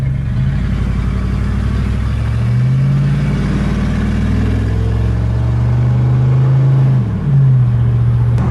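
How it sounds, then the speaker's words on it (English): A car engine close and loud on the highway, with a steady droning roar that climbs in pitch through the gears, breaks briefly for a shift, then pulls again. "let's take it out on the highway and do a few 0 to 60s and full throttle runs"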